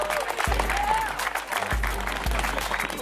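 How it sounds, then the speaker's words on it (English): Outdoor crowd at a Father's Day sports event clapping for a long-married couple, dense applause with a few low thumps and faint voices mixed in. "so let's clap it up for them."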